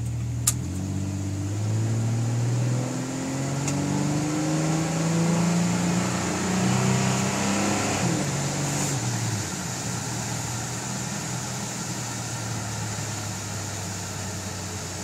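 A Chevrolet S10 pickup with a 4.3 engine drives on a road with some ice, its engine note climbing as it accelerates through gears. A constant road and cabin rumble sits underneath, heard from inside the vehicle.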